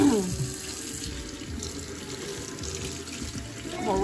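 Tap water runs steadily into a kitchen sink as a large chuck roast is rinsed, a continuous close splashing stream that holds evenly from start to finish.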